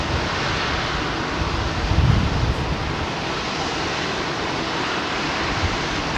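Ethiopian freighter jet rolling at London Heathrow Airport, a broad steady engine roar mixed with gusty wind noise, swelling slightly midway and continuous to the end.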